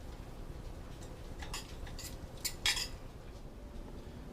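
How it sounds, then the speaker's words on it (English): Fresh parsley is stirred into pasta, with faint metal utensil clinks and scrapes against a pan coming in a few quick, quiet bursts over a low background hum. "throw it in that pasta and stir it up"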